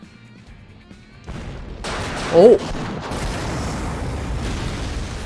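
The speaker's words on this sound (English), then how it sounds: "A series of incendiary explosions occur all over the surface of Ignis's fur" A sudden loud blast erupts, then a sustained roar and crackle of fiery incendiary explosions in a video game continues, with a short startled exclamation over the first burst.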